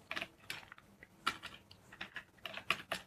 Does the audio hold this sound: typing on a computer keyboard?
yes